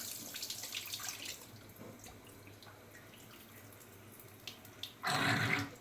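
Water runs and splashes softly while tapioca is rinsed by hand, ending in a louder gush of water.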